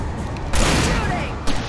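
Bursts of gunfire in the video game Alan Wake Remastered, two sharp loud volleys a second apart over dark ambient game sound, with no talking.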